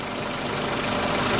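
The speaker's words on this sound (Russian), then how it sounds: "Перекладка поршней совсем невелика." A VW Polo sedan with a 1.6 CFNA engine idles with a faint piston slap knock, a steady mid-low engine drone with subtle rhythmic knocking throughout, no talking.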